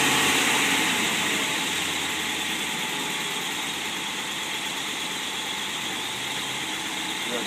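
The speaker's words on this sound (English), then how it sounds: "You can see the motor runs smooth without any smoke." A Y-block engine idles smoothly and steadily with a faint belt squeal, running loud and alone throughout.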